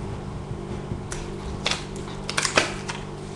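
Scissors snip around a flower element cut from a printed paper page for crafting, giving a few soft, close crisp cuts and paper rustles over a low steady background hum.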